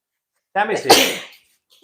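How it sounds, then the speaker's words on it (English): A single sharp human sneeze bursts out close and loud after a brief silence, indoors during a dog breeding session, with a short voice starting right after. "I'm gonna sneeze."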